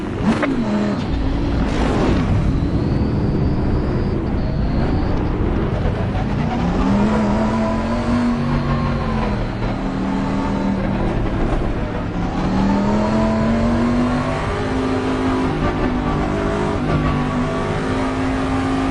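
Race car engines rev and roar together at the start of a racing video game on an Italian circuit, steady and loud throughout, with rising and falling pitch sweeps as the cars accelerate.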